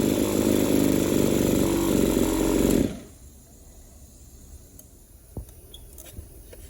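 A burned-up two-stroke engine with a fried piston idles loudly and raggedly for about three seconds, then cuts out. A quiet background with a few small knocks follows.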